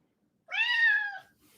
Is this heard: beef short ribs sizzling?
no